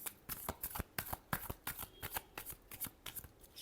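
Tarot cards shuffled by hand in a quick, irregular series of soft, crisp riffling snaps, close and fairly quiet, with no talking.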